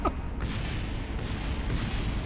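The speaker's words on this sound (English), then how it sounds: "There goes a whole bunch of stuff. Explosions everywhere." Spacecraft parts explode in the video game Kerbal Space Program, a dense, continuous rumbling roar of blasts with a sharp burst at the start and no voices.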